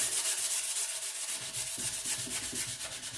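Hand sanding of a painted vintage wooden seed crate produces steady, close rubbing strokes in a quick back-and-forth rhythm, moderately quiet and with no voices.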